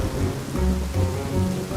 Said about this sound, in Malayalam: പെട്ടെന്ന് ഇടിമിന്നലോടെ കനത്ത മഴ പെയ്യാൻ തുടങ്ങി